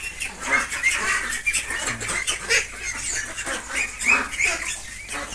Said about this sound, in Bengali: আর এই সাইডে হোয়াইট কালারের কতগুলো হাঁস, এই যে দেখুন, এই যে প্রচুর হাঁস এইখানটা